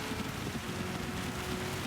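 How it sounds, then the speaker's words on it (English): Steady, dense rain pours down during a wet Gran Turismo 7 race at Le Mans, making a constant broadband hiss with no gaps and no voices. "it's raining like a good one"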